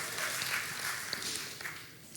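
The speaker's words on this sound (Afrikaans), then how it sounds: "kan ons vir 'n hande klap gee?" An audience applauds with soft, steady clapping in a church gathering, fairly distant and thin, with no talk over it.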